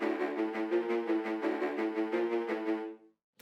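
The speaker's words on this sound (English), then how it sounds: "first off I've got some drop strings" Sustained layered strings play a pulsing chordal line with soft rhythmic accents, then stop abruptly, leaving silence.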